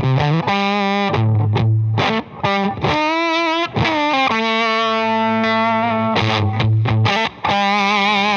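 A Wrought Iron Effects H-1 Germanium Carrier Rocket fuzz pedal shapes a loud electric guitar into thick, saturated distorted notes and chords, played alone in sustained phrases with brief breaks between them.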